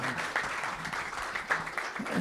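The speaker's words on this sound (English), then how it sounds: "if you would join me in applauding John for all of it." An audience at a Rotary Club of Yakima meeting applauds steadily and at close range, the clapping filling the room for a couple of seconds with no talk over it.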